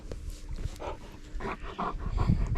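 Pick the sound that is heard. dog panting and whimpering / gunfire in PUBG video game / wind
dog panting and whimpering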